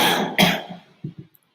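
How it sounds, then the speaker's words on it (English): A single person gives a harsh, close cough and clears the throat, followed by two short softer coughs, then silence. "Coughing is my hobby."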